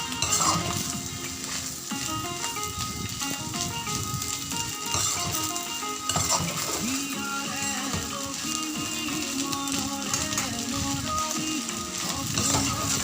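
Rice, chicken and Maggi noodles fry in a pan over a lowered gas flame, a continuous close sizzle with repeated scraping and stirring clatter and no talking.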